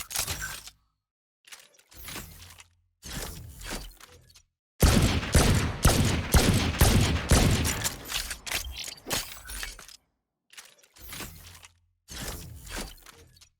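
Shots from the Sheriff pistol with the Protocol skin in VALORANT, heard as separate loud single reports in short spaced groups, then a denser rapid volley in the middle, with no talking.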